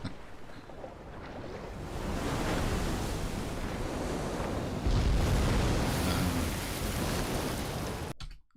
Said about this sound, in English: We're hearing the waves hit the beach